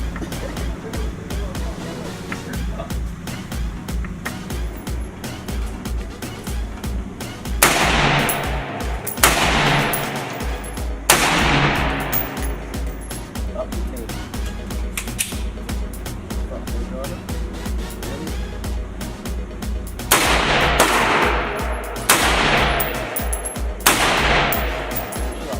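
Gunfire at an outdoor shooting range, repeated loud cracks spaced through a continuous noisy background, with sharper reports clustered near the middle and end.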